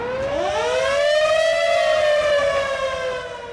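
A loud ambulance siren wails alone, its pitch rising and then holding in a long, steady sweeping tone that fades slightly at the end.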